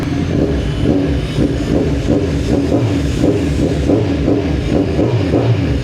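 Kawasaki Z1000 R inline-four 1000cc motorcycle with a new exhaust, idling loud and close with a steady, throbbing low rumble and rhythmic pulses, no talking.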